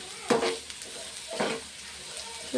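Ingredients for a chutney sizzle and fry in a pan, with two louder bursts of spattering and stirring scrapes over a steady background crackle, close and alone with no talk.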